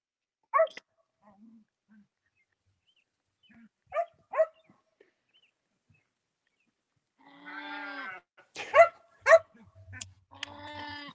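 Sheep on a farm, scattered bleats at moderate distance, sparse at first and then a denser cluster of overlapping calls near the end, with quiet gaps between them.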